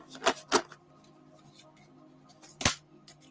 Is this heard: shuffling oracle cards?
yes